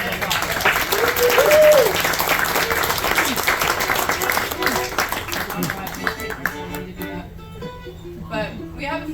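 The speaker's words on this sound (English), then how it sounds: "Let's give Danny a big round of applause" Applause from a cruise ship theater audience after a bluegrass band set, a dense burst of clapping that fades over several seconds as a voice speaks over the dying claps.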